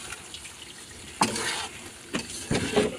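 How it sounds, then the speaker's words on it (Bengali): Chicken pieces sizzle in a spiced masala while being stirred, with a soft steady fry underneath and two or three louder scraping strokes of a spoon against the pan. "ভালো করে কষিয়ে এর ভিতরে দিয়ে দিলাম চিকেনের পিসগুলো"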